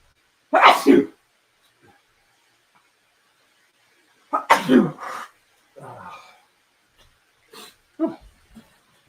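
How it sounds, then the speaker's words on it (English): Two sharp sneezes, separated by a few seconds of quiet. Smaller sniffs and throat noises follow, close to the mic. "I'm about to sneeze, too, because I'm looking at the light."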